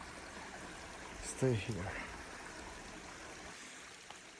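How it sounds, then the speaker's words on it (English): A river stream flows past a farm in central Portugal, a steady broadband wash of running water heard throughout, with a brief spoken phrase near the start. "And the river."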